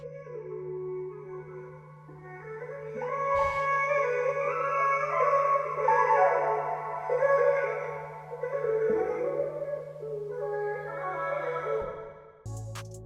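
Sad female vocal sample processed through a Fruity filter with a preset and reverb, in a pain-style beat, sustained and smeared over a steady low tone, cutting off near the end.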